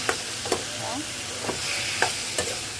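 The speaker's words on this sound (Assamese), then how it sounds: "মই লৰাই আছোঁ।" A spoon stirs lentils in a cooking pot with red cabbage stems, giving a soft continuous sizzle punctuated by several distinct scraping knocks against the pot at irregular intervals.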